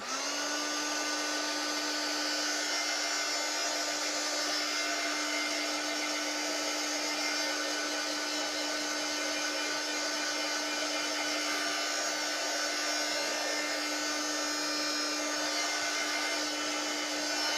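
A hair dryer runs continuously for the whole stretch, drying freshly brushed paint sealer, a steady loud whir with a fixed pitched whine and no voices over it.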